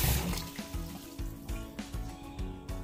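Cold water pours over freshly made homemade rice vermicelli, a steady splashing trickle with soft rhythmic sloshes as it runs over the noodles, close and moderately quiet with no talk.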